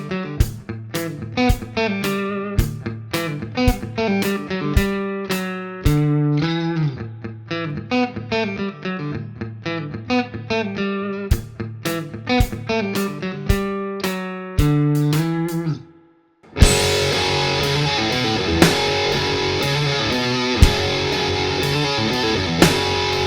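An electric guitar played through a BOSS RV-6 reverb pedal in spring mode rings out in picked chords and notes with long, splashy tails. After a brief pause it switches to a dense, sustained distorted tone.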